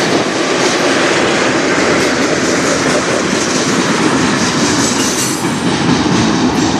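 A freight or passenger train rolls past on the Strathroy Sub, a loud, steady, close roar of wheels and railcars with faint clickety-clack and some wheel squeal throughout.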